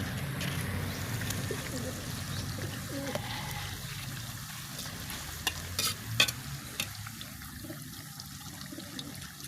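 Grated coconut being stirred and cooked in a pan in a home kitchen in Marinduque, soft scraping and sizzling with a few louder clacks of the spoon against the pan, fairly quiet throughout.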